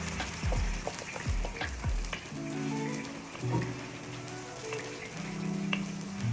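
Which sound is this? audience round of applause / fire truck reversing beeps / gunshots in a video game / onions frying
onions frying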